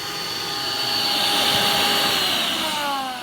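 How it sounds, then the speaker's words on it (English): A shop vac vacuuming water and debris out of a backyard koi pond, a loud steady whine with rising and falling tones as the hose draws in water, close and continuous with no talk. "I'm taking the shop vac and I'm vacuuming out the ponds here"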